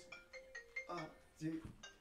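A phone ringtone plays a faint, repeating melody of short beeping notes, quiet and partly mixed with voices talking nearby.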